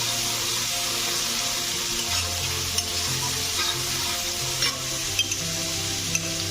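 Onions and panch phoron spices fry steadily in hot oil in a pan for a Bengali katla fish curry, a continuous close sizzle with occasional stirring clinks and no speech.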